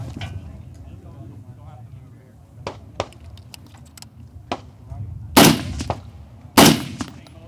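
Two loud, close gunshots from a braced firing position at an outdoor shooting range, about a second apart, each a sharp crack with a brief tail, while voices murmur in the background.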